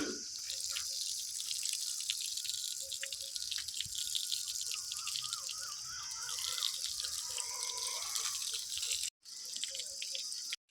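Water sprayed over the fresh concrete of a newly built house for curing, a continuous close hiss with faint dripping and splashing that runs steadily before a brief cut-off near the end.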